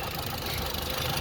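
A 1956 Ford Anglia 100E engine idles steadily and evenly close by, a continuous low mechanical hum with no voices over it.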